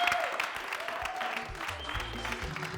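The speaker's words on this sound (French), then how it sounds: "Je vais vous demander de faire beaucoup d'applaudissements pour Cass Luna qui nous rejoint." A television studio audience claps steadily throughout, a broad wash of hand claps with some low rumble and faint music underneath.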